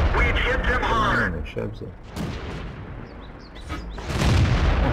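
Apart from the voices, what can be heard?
tank cannon shots in the video game World of Tanks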